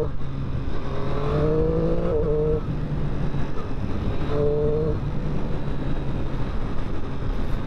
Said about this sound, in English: Can't beat the sound of the intake and the exhaust sound on this model.